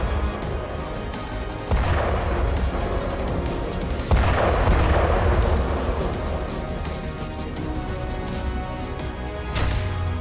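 A Russian rocket launcher system is hit and destroyed, producing repeated heavy blasts and crackling bursts. Several loud booms land at irregular intervals over a continuous roar of fire and debris, with no voices.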